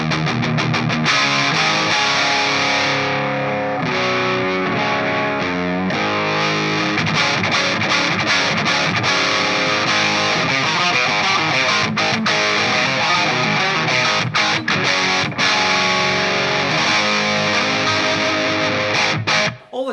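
Electric guitar played through a SviSound Cockedzoid distortion pedal with the gain turned down, a steady run of chords and riffs with crunchy overdrive, loud and continuous with no talking.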